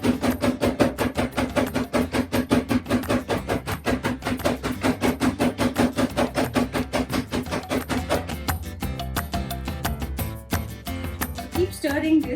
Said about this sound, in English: I'm going to add them to a ziploc and I'm going to pat this.